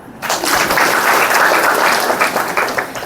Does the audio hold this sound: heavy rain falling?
no